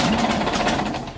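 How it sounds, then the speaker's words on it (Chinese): The diesel engine of a GALION T500 road grader, left abandoned in a forest for 17 years, runs after repairs with a rough, rapid pulsing chug, loud and close, briefly and without talk. "机舱内的发动机总算是有了好转，这次运转的时长明显增加了不少"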